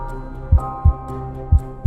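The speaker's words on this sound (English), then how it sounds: "his heart pounding" A heartbeat sound effect gives two paired low thuds, a steady lub-dub pattern repeating twice over a soft hum.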